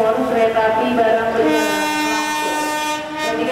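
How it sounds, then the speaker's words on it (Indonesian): A freight train passes close by at a station, its horn sounding loud and sustained over the rumble and clatter of the rolling wagons. "kereta api barang"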